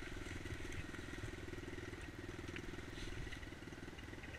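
A dirt bike engine running on a leaf-covered trail, with a faint, steady, rapid putter and buzzing under a constant background hiss; no speech.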